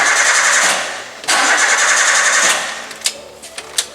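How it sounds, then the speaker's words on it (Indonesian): A car engine cranks on its starter without catching, a loud whirring grind in two long bursts, then falls quiet with a few faint clicks. "Di starter mesin mobil tidak mau hidup."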